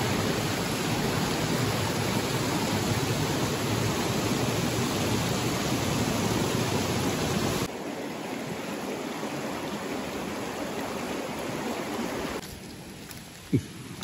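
River stream rushing near the Seulawah Dara waterfall in Aceh Besar, a loud steady hiss of flowing water that drops to a quieter wash midway, then briefly fades further near the end.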